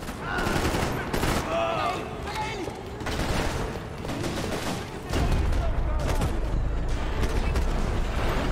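Gunfire rings out in Max Payne 3, rapid bursts of shots crackling repeatedly and fairly loud, with someone talking over much of the game audio.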